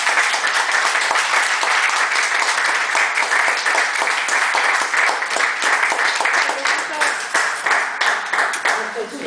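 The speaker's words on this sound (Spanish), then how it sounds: "un aplauso" An audience at a literary talk applauds steadily, many hands clapping in a thick, even patter that holds for around nine seconds with slight rises and dips in intensity.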